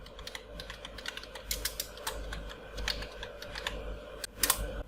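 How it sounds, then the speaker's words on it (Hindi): Computer keyboard keys clatter in uneven bursts of taps as letters are typed into an MS Word document, close and crisp with short pauses between strokes, no speech. "अब जिस लेटर को कैपिटल बनाना है उसको शिफ्ट के साथ में प्रेस करेंगे, और बाकी के बिना शिफ्ट के।"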